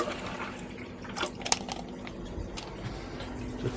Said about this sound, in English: Just swill it out with some water,